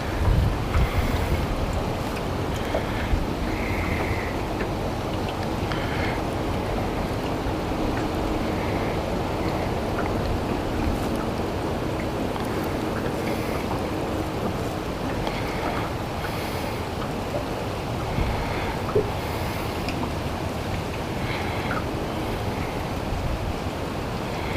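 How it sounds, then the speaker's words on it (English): Strong wind roars across the microphone steadily throughout, with water and waves washing beneath during a fishing outing; no voices. "that wind is blowing that hard"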